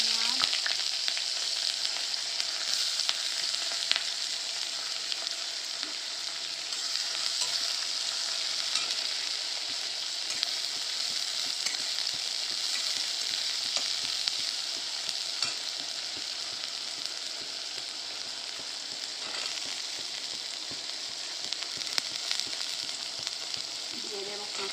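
Onions frying in a pan for chicken bharta give a steady, loud, broadband sizzle that runs unbroken throughout, with occasional faint clicks from stirring and no voices.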